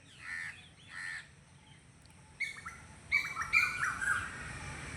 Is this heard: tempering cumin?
no